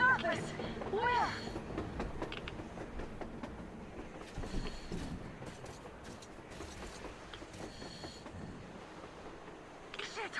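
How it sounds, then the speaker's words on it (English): Train rolling on the surface in the video game Metro Exodus, a faint, continuous rattling rumble with clatter, under game sounds and voices. "A train! A damn train on the surface!"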